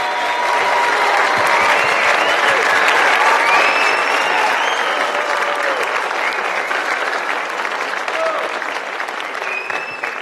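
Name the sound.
audience applause for 4th graders at school concert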